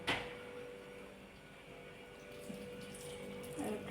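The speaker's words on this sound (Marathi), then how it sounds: "धुवून घे थोडंसं।" Running tap water splashes steadily into a sink while cauliflower is rinsed under it, a continuous close hiss with small bumps and clatters near the end.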